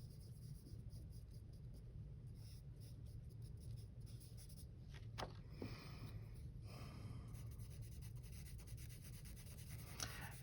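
Pencil drawing and shading on paper, soft close scratching and rubbing strokes with a few sharper scrapes, faint and continuous over a low background hum, with no speech.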